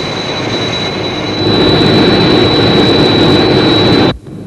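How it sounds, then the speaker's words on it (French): A jet aircraft flies close by with a loud, steady roar and a thin high whine that swells midway and then cuts off sharply, leaving near silence; no voices. "Un autre avion vient tout près du nôtre."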